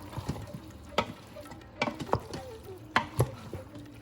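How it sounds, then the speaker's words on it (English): Mutton curry being stirred and sautéed in an Instant Pot, with scattered scraping clinks of a spoon against the metal pot over a soft sizzle, several sharper strokes standing out. "And then I'm going to give it a good stir."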